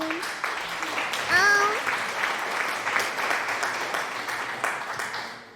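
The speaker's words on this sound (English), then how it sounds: "You clap for me, I clap for you, we clap for each other." Steady applause from a small group during a drinking and singing session, filling the whole stretch at moderate loudness, with a brief voice and a short sung or whistled rising tone near the start.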